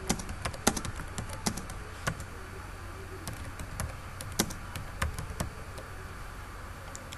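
Fast, light tapping on a computer keyboard while a file name is typed, the keystrokes close and quiet, irregular and clustered in bursts, with no voices.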